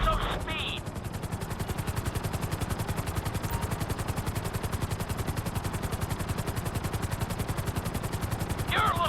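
A helicopter in GTA 5 drones with fast, even rotor chops pulsing steadily throughout, moderately loud and close, with short bursts of radio-style chatter at the start and end.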